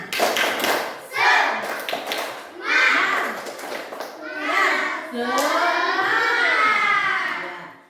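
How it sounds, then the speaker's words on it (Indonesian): Elementary school children in a classroom perform a rhythmic spirit clap, their loud chanted voices mixed with bursts of clapping and thumps in repeating phrases. "tepuk semangat"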